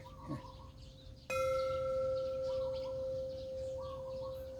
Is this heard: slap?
no